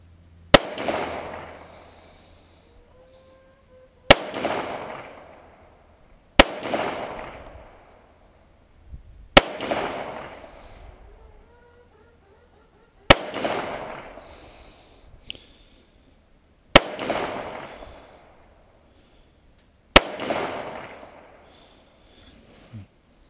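Star M45 .45 ACP pistol fired outdoors while plinking: seven sharp, loud shots spaced a few seconds apart, each followed by a rolling echo that fades into quiet.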